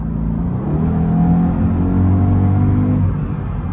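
A Mercedes-AMG car engine hums and revs steadily up close, a continuous smooth rumble with rising and falling pitch.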